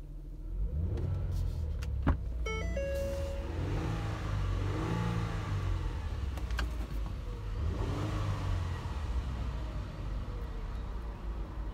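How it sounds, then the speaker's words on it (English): A 2009 Ford Flex with a 3.5 liter all-wheel-drive engine runs close by, a steady low engine drone swelling through several revs and settling back to idle, with no one speaking over it. "And that's the engine test for stock number D18D046, 2009 Ford Flex."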